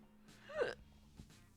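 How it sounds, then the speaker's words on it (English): A single hiccup from a woman, a brief soft voiced catch rising in pitch, followed by a faint small breath, close to the microphone and quiet. "I've had the hiccups basically since last night during Fatty's stream where I just kept burping."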